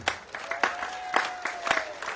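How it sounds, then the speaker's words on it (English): Scattered hand claps come from a crowd at an under-19 rugby match between England Community Lions and France, a sparse, uneven rhythm of claps, with a thin sustained whistle-like tone running underneath. "once again a round of applause"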